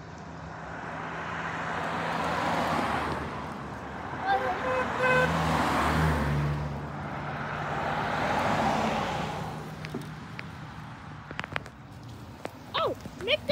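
A car approaches and passes close by, its engine swelling and fading twice. Children talk and shout nearby over the road noise.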